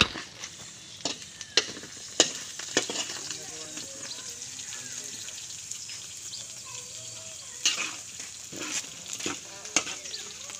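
Garlic and onion stir-fry in a pan with a faint sizzle and scattered scraping and clinking of a utensil, quiet and close, with occasional soft voices in the background.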